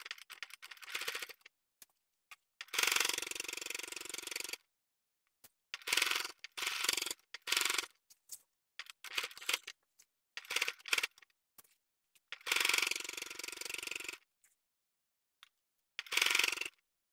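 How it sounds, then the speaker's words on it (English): A sewing machine stitching a pattern piece, running in several short bursts of rapid mechanical whirring and clicking separated by silent pauses, close and clear with no talking. "I'm going to sew on the other side from the top edge down to the other dot"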